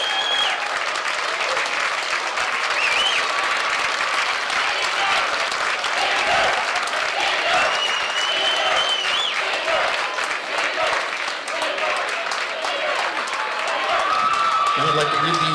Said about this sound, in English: One more round of applause for the cheerleaders and football players.